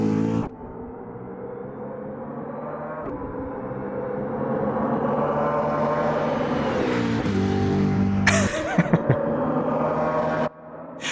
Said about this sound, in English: Sounds like a jet plane coming towards you